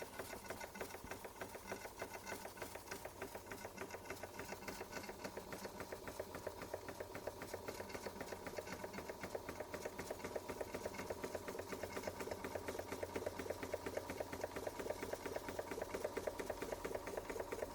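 A Bing 130 382 Poppit model steam engine runs steadily, its fast, even mechanical ticking and chuffing continuous and fairly quiet throughout, with no voices.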